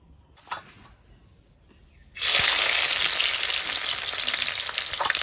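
Oil poured into a hot kadai bursts into a loud, close sizzle after a quiet start with a faint knock, then keeps frying steadily.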